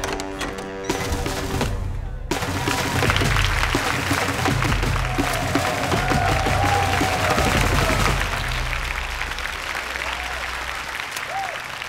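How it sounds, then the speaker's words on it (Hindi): A crowd at a carnival party claps to welcome a guest, a steady busy wash of applause over background music, with a burst of tonal music at the start. "उनका तालियों से वेलकम किया जाए"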